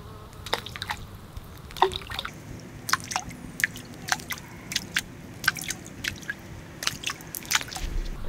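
Small figurines are dropped into a pool of Orbeez water beads, giving a run of soft wet squishes and drip-like pops that recur irregularly at close range over a quiet background.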